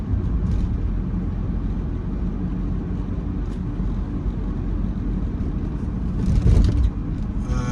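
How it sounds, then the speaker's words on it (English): A car drives through Charlotte's Center City in North Carolina, with a continuous low road rumble and cabin noise heard from inside and a brief louder swell near the end. "we're pretty much driving through Center City right now"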